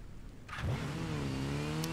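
A motorcycle in the Gotham Knights video game starts with a quick crank and settles into a smooth, mid-pitched engine hum that swells slightly as it idles, close and fairly quiet.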